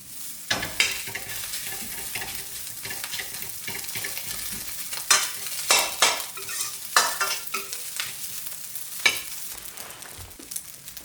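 Rice and eggs tossed together in a hot pan for soy sauce fried rice, a steady sizzle broken by repeated scraping and clinking strokes of the spatula, close and busy for about ten seconds, no voices.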